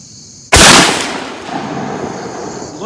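A 12 gauge 3.5-inch double-barrel shotgun fires a .73 caliber round ball at a target 30 yards out, one sharp loud blast with a ringing outdoor decay trailing over the next two seconds.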